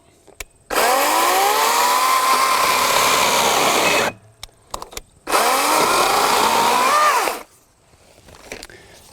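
A Wild Badger 40-volt battery chainsaw cuts loudly through wood in two sustained bursts, its whine bending in pitch under load, with brief quiet gaps between the cuts and after them.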